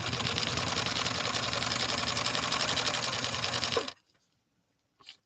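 A 1965 Viking Husqvarna 2000 sewing machine stitches through leather with a fast, steady mechanical whir for about four seconds, then stops abruptly, leaving near silence broken by one faint click.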